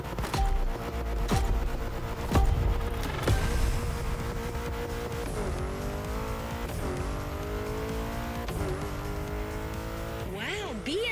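A BMW in The Crew Motorfest on a street event, with a loud revving engine, gear-change pitch sweeps, sharp impacts early on and tire squeal throughout.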